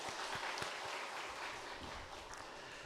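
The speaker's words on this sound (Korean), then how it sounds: "다시 한번 박수 부탁합니다" A church congregation at a Sunday service applauding together, a steady wash of many hands clapping that holds for a few seconds and then fades slightly, heard from a distance.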